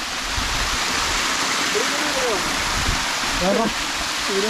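Continuous rushing of an icy mountain stream fills the scene, with brief voices heard over the steady watery roar.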